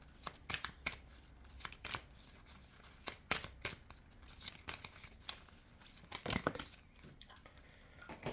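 Oracle cards being shuffled during a reading, giving a run of quick, crisp riffles and slaps in irregular bursts, fairly close and not loud, with no talking.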